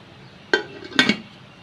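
Two sharp metallic clinks, close by, as a pressure cooker lid with gasket and whistle removed knocks and settles into place, followed by quiet.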